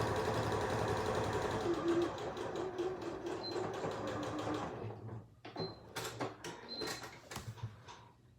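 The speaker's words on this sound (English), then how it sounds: "Sew my other 2 pieces together." A sewing machine stitches fabric pieces together for a bag, running in a steady close mechanical whir for several seconds, then stopping and giving short bursts with clicks and handling sounds.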